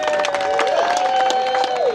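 Audience applause for the top three Ford cars at a large Ford show at Beaulieu, a steady crowd clapping throughout, with a faint whistle or tone drifting over the claps.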